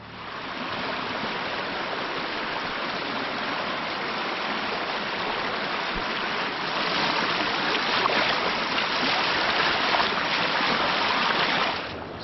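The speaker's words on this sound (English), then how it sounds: "not with this much water flowing in the creek" A creek running high after heavy flow at Clifty Falls State Park, heard as a loud, steady rush of water that swells slightly louder partway through, with no voices.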